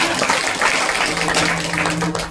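Steady applause from an audience at a kirtan during a week-long Harinam Saptah gathering in Kacharwadi, Indapur, a dense continuous wash of hand claps with no pauses.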